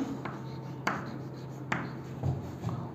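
Marker or chalk writing on a board during a chemistry lesson, heard as a few sharp taps and short scratchy strokes at a steady, unhurried pace, fairly close with no talk.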